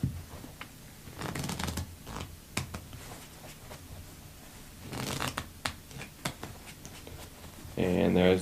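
Playing cards shuffled up close in several quick riffle bursts with soft taps between, ending with a short louder clatter.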